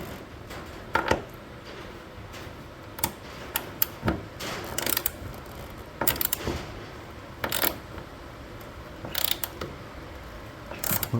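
Intermittent metallic clicking and ratcheting as a spanner tightens a bolt under a Jaguar XKR X100, in short irregular bursts over a low background hiss.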